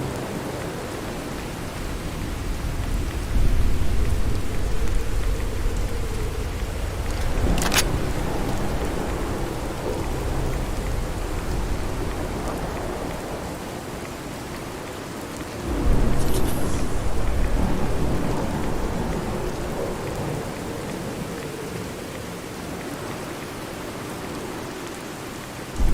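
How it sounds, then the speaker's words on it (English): A radiation storm in the Fallout 4 video game brings steady heavy rain with a couple of sharp thunder cracks and rolling rumbles, sustained and loud with no talking. "It's a good rad storm right now."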